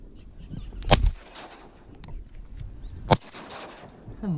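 Shotgun blasts ring out during a public-land duck hunt in California. Two sharp reports, about two seconds apart, stand out against quiet marsh background.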